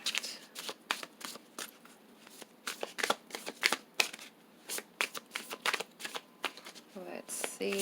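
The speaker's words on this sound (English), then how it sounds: "I'm going to pull a card from the Dark Mirror Oracle deck for you guys." An oracle card deck is shuffled in quick bursts of crisp riffling and flicking, close and fairly quiet, in irregular flurries with short pauses between them.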